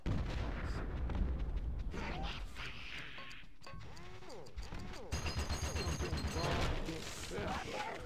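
Bazooka blasts, explosions and mechanical clatter from a Conker's Bad Fur Day battle-mode match, loud and dense, with a voice speaking over the chaotic game action.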